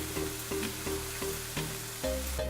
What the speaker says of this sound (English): I'm gonna add my mint in now. Let's mix that all together.